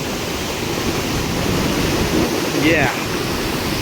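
Swollen Subhedar waterfall roars as a dense, steady wash of rushing water, loud and unbroken, with a brief faint whistle-like sound near the end.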